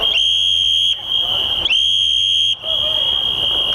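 Whistles blown at a protest outside an FBI office, shrill sustained blasts with bright harmonics, two long tones separated by brief gaps, loud and close.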